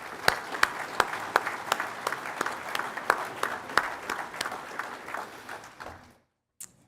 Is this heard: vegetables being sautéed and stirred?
no